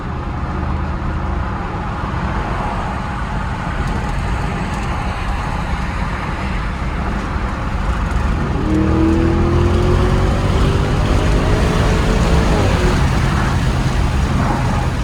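A 2021 Audi SQ7 performance wagon with 500 hp accelerates hard up a highway merge, engine droning steadily under road and wind roar, then rising in pitch as it pulls harder midway.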